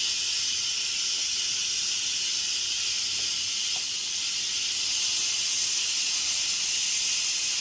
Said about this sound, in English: All the pressure is being released.